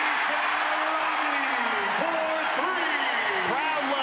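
A basketball crowd at a college game between the Creighton Bluejays and Northwestern Wildcats cheers and applauds after a three-pointer, a broad roar that stays steady under a commentator's voice.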